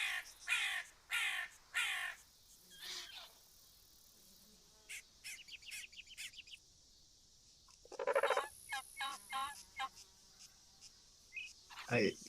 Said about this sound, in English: it's been spotted by the guinea fowl. Oh, there's several of them here.